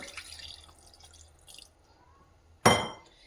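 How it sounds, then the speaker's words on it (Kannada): Quiet clinks and faint drips, then a sudden splash of water poured into a pot of rice that quickly fades away. "ಸ್ವಲ್ಪ ನೀರು ಹಾಕ್ಕೊಳ್ಬೇಕು."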